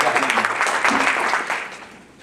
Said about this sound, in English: Let's give the subcommittee a round of